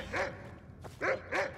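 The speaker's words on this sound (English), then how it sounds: "That's such a cute puppy dog." Small puppy in Skyrim giving three short, yappy barks a moment apart, clear and close, with a faint yip between them and a quiet ambient bed underneath.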